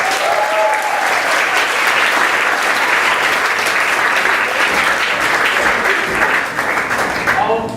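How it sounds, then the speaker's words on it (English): A stand-up comedy audience applauds loudly and continuously, dense clapping sustained at a steady level throughout with some crowd cheering mixed in. "Let's do one more round of applause"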